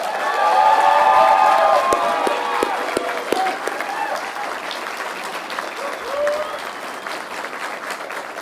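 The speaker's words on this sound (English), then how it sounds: "I would ask that you now show your gratitude by applauding the faculty of the College of Idaho" Students at a College of Idaho commencement ceremony applaud the faculty with sustained, loud crowd clapping and some cheering, with voices faintly audible through it.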